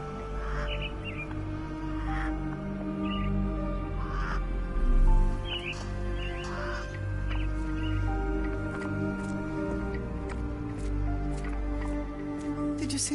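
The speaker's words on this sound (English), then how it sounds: "Minor birds, if I'm not mistaken. Beautiful creatures. Sad that they're caged here." Caged mynah birds call in a Sherlock Holmes video game scene, with scattered chirps and harsh caw-like squawks repeating over a droning ambient hum, moderately near.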